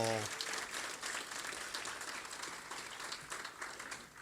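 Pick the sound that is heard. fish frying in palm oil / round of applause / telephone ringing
round of applause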